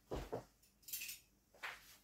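Light metallic clinks of a metal teaspoon being picked up, a couple of quick taps followed by brief scrapes, close and quiet.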